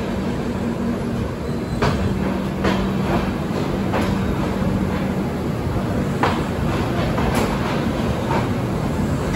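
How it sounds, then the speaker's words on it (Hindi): Garib Rath Express pulling away from Bandra Terminus at night, a steady rolling rumble of carriages with repeated rail-joint clacks and occasional sharp metallic clicks, close and continuous. "तो हमारी ट्रेन निकल चुकी है बांद्रा टर्मिनस रेलवे स्टेशन से पूरे"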